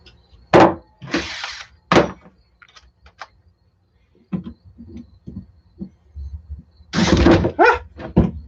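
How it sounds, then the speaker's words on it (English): A wrench works a Loctite-secured bolt on the center differential of an 8S Outcast RC car, giving loud metallic clanks, scrapes and thunks in irregular bursts, close up, with quiet pauses between. "I think I'm good to use my wrench"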